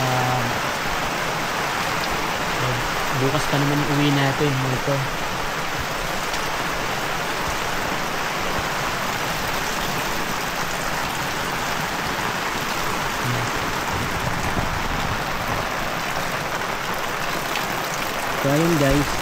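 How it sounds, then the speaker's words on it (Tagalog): Heavy rain drums steadily on a camping tent during a solo trip in Bangkong Kahoy Valley, Dolores, Quezon, a loud continuous wash with someone talking briefly over it. "lakas pa rin ang ulan"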